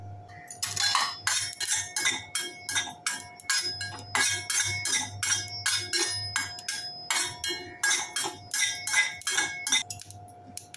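Fennel seeds dry roasting in a pan, with a steady run of sharp, rattling clinks and metallic scraping as the seeds are stirred, close and fairly loud over a low constant hum.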